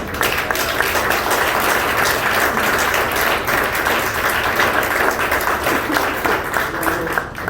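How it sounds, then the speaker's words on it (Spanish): A church congregation claps together in dense, continuous applause, loud and close, holding steady for several seconds with no voices on top. "Denle un aplauso, Señor, a ver si se despierta un poquito"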